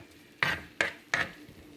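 A utensil scraping a pan of frying cheese and onions seasoned with salt and pepper: three quick, fairly quiet scrapes with short pauses and faint sizzling between them.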